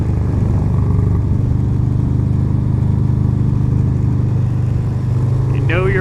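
A 2020 Harley-Davidson FXLR motorcycle engine drones loud and steady as the bike pulls out of a curve, its low rumble filling the scene, with a rising whine near the end.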